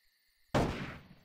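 A single sharp gunshot blast with a decaying echo after a faint electronic tone, loud and close, in the video game Jagged Alliance: Back in Action.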